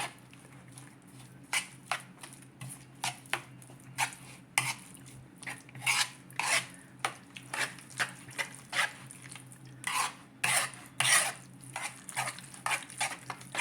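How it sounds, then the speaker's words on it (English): Ingredients for an eggplant lasagna mixed together in a bowl, with a series of rhythmic, close scraping and clinking strokes of a utensil, fairly soft, over a low steady hum. "we're gonna mix it all together"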